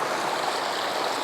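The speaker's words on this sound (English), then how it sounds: "this little stream here in the water is really cool" A small stream flows steadily over rocks along a shore at sunrise, a continuous close rush of water with no voices.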